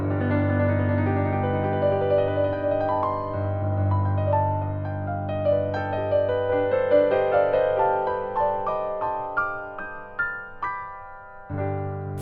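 A Mixolydian flat 6 scale unfolds over a sustained low bass tone on what sounds like a keyboard, with notes stepping melodically in a smooth, dreamy line over about twelve seconds.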